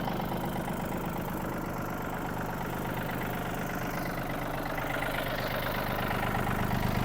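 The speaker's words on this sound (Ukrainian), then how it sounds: "знімаємо реверс та давайте з вами послухаємо на роботу його двигуна" Yanmar AF-26 mini tractor engine idling steadily up close, a continuous low diesel rumble with even knocking pulses that holds the same level throughout, with no voices.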